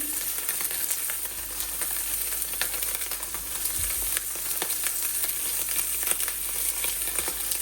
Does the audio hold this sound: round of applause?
no